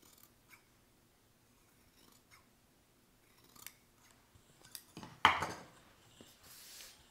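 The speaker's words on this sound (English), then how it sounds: "trim away half of the seam allowance for the rest of the tie" Sewing scissors trim half the fabric seam allowance of a dress tie, giving a few quiet, scattered snips and small handling rustles in a near-silent room, with one crisper cut and a soft rustle near the end.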